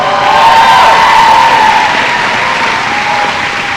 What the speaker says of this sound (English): how about a round of applause for these incredibly talented